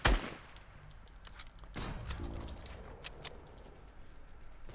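Video game gunfire aimed at a tree, a sharp loud shot at the start followed by a second burst of rapid shots a moment later, with scattered fainter pops trailing off.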